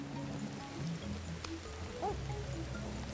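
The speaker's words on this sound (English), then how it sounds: "it's raining, it sounded like it was burning or something" Rain falls steadily in the survival video game Ancestors, a soft, constant patter running through the whole stretch, with faint tonal game sounds layered over it.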